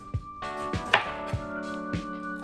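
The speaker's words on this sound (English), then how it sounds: "And then I'm chopping up a shallot and some green bell peppers." A knife chops a shallot and green bell peppers on a cutting board, five crisp evenly spaced chops close up over a steady background hum, no talking.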